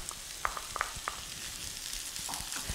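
Stir-fried vegetables with red pepper and courgette sizzle steadily on an electric hob, a continuous frying hiss with occasional small pops and stirring scrapes.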